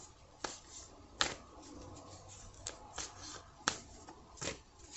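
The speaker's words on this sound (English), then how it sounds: "I'm going to shuffle a little bit more." A deck of cards being shuffled by hand, quiet close riffles and sharp snaps of cards at irregular intervals against a faint background.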